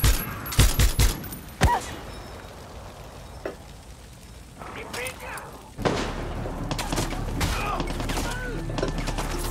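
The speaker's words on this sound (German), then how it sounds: "Okay, hinter mir schießt es." Gunfire in Far Cry 6 comes from behind the player as several sharp shots and bursts early on, followed by quieter scattered pops and a thud, then a rumbling loud stretch of action noise.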